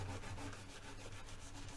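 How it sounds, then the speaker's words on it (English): A cloth rubs wood cleaner back and forth along an acoustic guitar's wooden neck, making a soft, rhythmic swishing scrub with regular strokes, close and fairly quiet, with no talking. "Just kind of rub it back and forth, let that wood soak in the cleaner."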